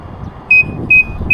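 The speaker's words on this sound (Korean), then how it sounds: "자 30km만 돼도 지금 삑삑거리는 상황입니다" Inside a moving car, a low-fuel range warning sounds as three evenly spaced high pinging beeps, each ringing briefly over low road and engine rumble.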